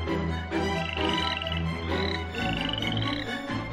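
Frogs croaking in a dense, continuous chorus, with overlapping rhythmic calls filling the whole stretch at steady, fairly loud level and no voices.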